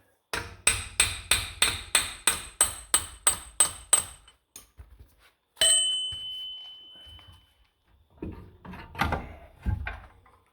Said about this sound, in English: we need to actually hammer on that